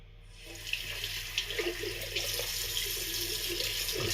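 Cold water runs steadily from a tap into a sink, a continuous close splashing rush with no talking.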